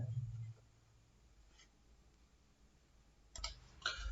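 A computer mouse clicks a few times while Microsoft Office's Insert tab menus are used: sharp, close, isolated clicks spread over a quiet room background, with a low hum fading out at the start.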